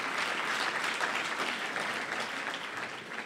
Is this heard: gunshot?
no